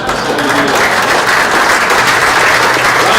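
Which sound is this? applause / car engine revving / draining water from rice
applause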